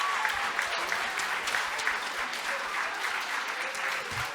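A room full of people at a presentation session applauds steadily, fairly close and continuous, with dense even clapping throughout.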